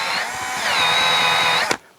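A cordless power drill whirs steadily at close range, its motor pitch rising slightly before cutting off abruptly with a short click, leaving near silence.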